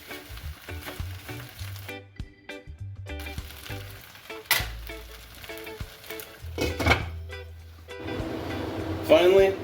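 Egg-fried rice with kielbasa sizzles in a pan as it's stirred, soft frying crackle and occasional scraping under a voice talking throughout, with background music tones.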